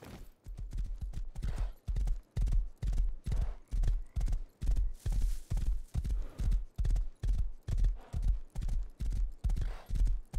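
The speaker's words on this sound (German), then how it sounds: "Endlich ein schwarzes Pferd" Horse hooves clip-clop steadily in the survival video game Rust, a black horse trotting with a loud, regular rhythmic beat of close footfalls throughout, no talking over it.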